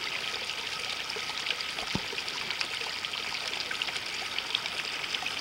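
A small countryside brook flows steadily with a soft, continuous trickling and burbling, heard alone at moderate distance with no voices.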